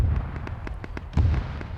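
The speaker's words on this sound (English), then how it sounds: "I just heard an explosion down there" Explosions and gunfire in a large military PvP video game, heard as a string of sharp cracks and thuds. A louder blast lands midway, distant-to-mid range, with no talking.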